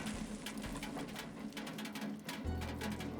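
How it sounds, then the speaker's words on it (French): A cut sack spills oranges in a PS5 horror game, a quiet patter of many small thuds tumbling out quickly, ending in a brief low thump. "On aurait dit une pluie d'oranges."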